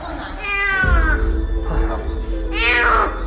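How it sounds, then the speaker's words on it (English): A kitten meows repeatedly, with two or three loud, wavering cries close by, each rising and falling, over a low background rumble. "This kitten was lucky."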